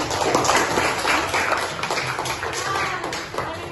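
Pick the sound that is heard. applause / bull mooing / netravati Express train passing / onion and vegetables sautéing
applause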